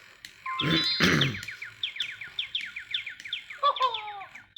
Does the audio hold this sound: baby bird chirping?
yes